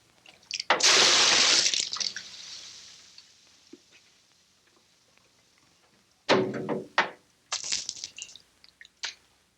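Water splashes over someone in a bath, first one long loud gushing pour, then after a quieter pause several shorter splashes and sloshes up close.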